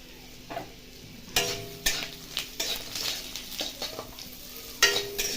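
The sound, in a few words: thinly sliced papaya frying and stirred with mustard seeds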